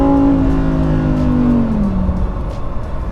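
A Lamborghini STO pulls away at part throttle, its engine note climbing in a smooth, loud rising whine from close by before easing off, with road rumble underneath and no voices.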